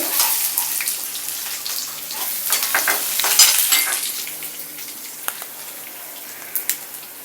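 Peanuts, curry leaves and garlic fry in a pan for vegetable corn aval upma, a loud crackling sizzle with stirring scrapes that settles to a softer hiss with a few clicks, no voices.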